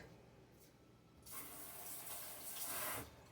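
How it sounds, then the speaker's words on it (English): A kitchen tap runs quietly while a lime is rinsed under it; after a second of near silence the water starts with a soft steady splash, swells briefly near the end, then drops back. "Now we'll use some of this lime. Let me wash the skin off this."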